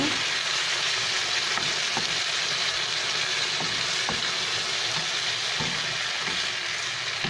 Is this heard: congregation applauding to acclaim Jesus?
no